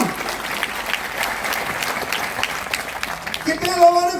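A large crowd at a leadership programme event applauds, a thick, steady roar of clapping at moderate loudness lasting a few seconds, tapering as a voice begins speaking near the end.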